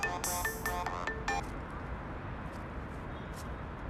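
A mobile phone rings with an incoming call: a short, bright electronic melody of several quick tones plays loudly for about a second and a half, then stops, leaving only quiet room noise.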